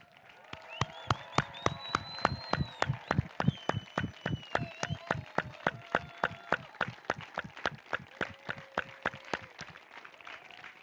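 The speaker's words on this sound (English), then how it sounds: "one final big applause for all these beautiful couples" Audience applause for newly announced couples at a Guru Puja 2021 gathering, a long run of steady, evenly spaced claps that rise and then gradually thin out, with faint voices and tones beneath.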